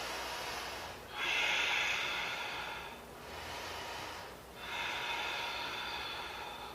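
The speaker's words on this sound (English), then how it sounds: "Take a big breath here. Let's do 4 more breaths. Inhale and exhale." Slow, deep yoga breaths, close and clearly audible, each long airy inhale and exhale swelling and fading in a steady rhythm, three breaths in a row with no talking.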